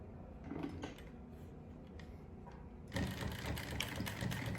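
A sewing machine stitches the edge of a cargo pocket in short bursts, with a steady mechanical whir that grows louder and busier partway through, heard close and alone.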